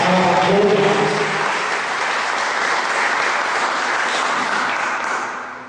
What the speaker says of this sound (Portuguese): Vocês podem aplaudir a Deus de Deus, Senhor dos Senhores.